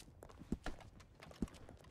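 Horses clip-clop in a ranch roleplay video game, a few soft hoof knocks with two sharper strikes about a second apart, fairly faint and heard without speech.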